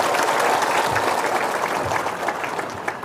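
An audience at a religious gathering applauds on cue, a sustained dense wash of clapping that starts full and gradually thins and softens toward the end, with a few isolated claps at the tail.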